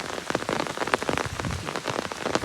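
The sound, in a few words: heavy rain falling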